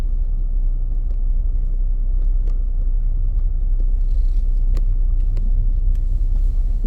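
Jeep Wrangler Rubicon on AT tyres with its sway bar disconnected, driving along a road: a steady low engine and road rumble drones throughout at close range, with faint ticks and rattles on top and no talking.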